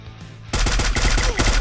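Rapid bursts of automatic gunfire from the Free Fire mobile battle royale game, a loud close volley of shots that begins abruptly after a quiet moment and keeps rattling steadily to the end.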